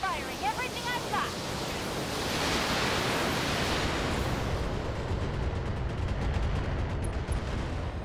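A BattleTech mech fires every weapon at once at a light standard turret in the video game, a thick roaring barrage of noise and impacts that swells, holds steadily loud, then thins slightly toward the end.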